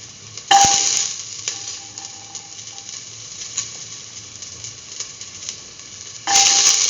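Garlic hits a hot pan for a Christmas pumpkin beef rice dish, sparking a loud sizzle with a utensil clang, then a quieter stretch of faint frying and stirring before a second loud sizzle burst at the end.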